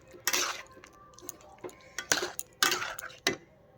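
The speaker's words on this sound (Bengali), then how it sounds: "ভালো করে নেড়ে চেড়ে এখন নামিয়ে দেবো।" A metal spoon scrapes and clanks against a pan while cauliflower korma is stirred, several sharp, close knocks and scrapes in an irregular rhythm with quiet gaps between them.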